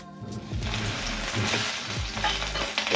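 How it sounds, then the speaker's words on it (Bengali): Steady sizzling of eggplant frying in hot oil, with intermittent scraping and stirring sounds close by. "বেগুনটা ভেজে তুলে নেবো"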